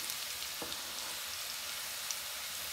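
Onions frying in oil in a pan for a crispy chana chilli, a steady soft sizzling hiss throughout with a faint tap near the start, no voices.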